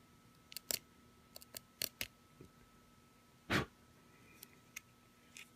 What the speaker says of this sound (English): If it's still the heavy side, trim some off.